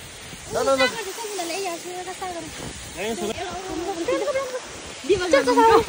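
Fungfung waterfall at a crowded picnic spot in Kakani, Nuwakot, pours in a steady broadband rush throughout, with people talking loudly over it close by.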